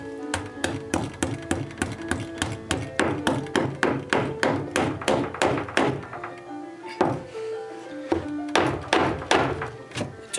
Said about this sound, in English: I'm going to slip the nail in. And I'm going to bend it over.